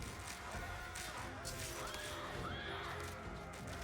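Horses whinny in a cavalry-only real-time strategy game battle with horse archers, faint rising and falling neighs mixed into a dense, hissing wash of battle noise.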